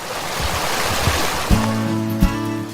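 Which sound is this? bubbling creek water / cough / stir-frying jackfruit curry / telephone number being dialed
bubbling creek water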